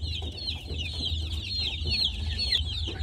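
Young chicks in a coop keep up a continuous high peeping, with soft clucks and scratching underneath, close and fairly quiet.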